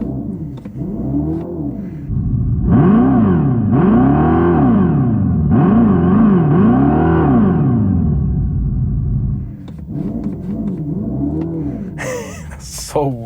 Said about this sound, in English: this one allows you to do the fake revving